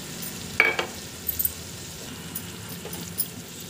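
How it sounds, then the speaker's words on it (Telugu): Onion paste and tomato paste frying in oil in a pot for a Telugu-style fish curry, a soft steady sizzle with a few brief clinks and stirring scrapes, fairly quiet and close. "ఇవి బాగా పచ్చివాసన పోయి ఆయిల్ డివైడ్ అయ్యేంత వరకు బాగా ఫ్రై అవ్వాలి"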